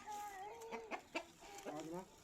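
Several short clucks and throaty calls from a rooster kept for sale, fairly close but quiet, coming in uneven bursts with small gaps between them.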